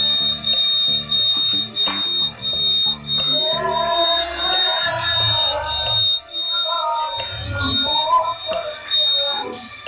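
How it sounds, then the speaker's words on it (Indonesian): A motorcycle anti-theft alarm sounds loudly during an attempted theft, cycling through piercing electronic chirps and warbling tones over about ten seconds, with intermittent low thumps and clatter around it. "Kedua pelaku pada video ini gagal karena alarm motor yang berbunyi kencang."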